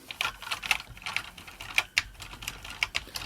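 Keyboard keys of an Acorn BBC Micro Master 128K click and clatter irregularly, close and quiet, as if being pressed and rubbed one after another during cleaning.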